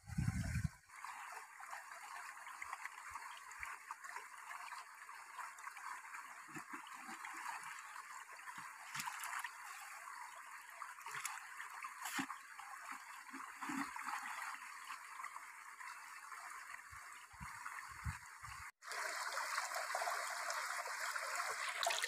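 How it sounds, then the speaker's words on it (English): River water running through a gold prospecting river sluice, a steady low rushing and trickling wash that continues throughout with faint splashes and clunks, fairly quiet and with no talking. "we'll put it through the river sluice and see if we've got anything."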